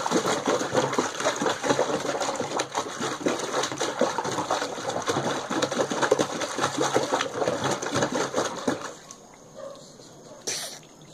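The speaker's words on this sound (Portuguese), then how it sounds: "Espera aí que eu vou abrir a torneira." Water runs steadily from an opened tap in a home, a continuous rushing spray that holds for about nine seconds before cutting off, leaving quiet with a brief noise afterward.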